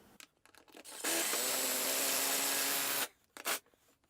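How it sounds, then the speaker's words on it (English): Power driver fastening the bolts of a TV wall bracket, a steady whirring run of about two seconds after a few light handling clicks, then short bursts close by. "go ahead and fasten the other 3 bolts."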